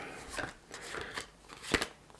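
A deck of tarot cards is shuffled close up with soft, papery riffles and flicks in an uneven rhythm, quiet and without talk.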